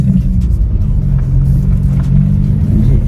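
A 2018 BMW M2 sports car drives through city traffic, its engine a steady, loud low rumble with mild swells of revving and no talk over it.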